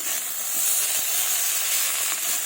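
Bottle gourd shoots, potatoes and fish stirred together in a hot pan, producing a continuous close steamy hiss and sizzle with faint scraping underneath.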